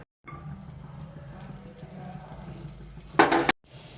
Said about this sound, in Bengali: 1 কিউব মতন বাটার আমি কড়াইতে দিচ্ছি।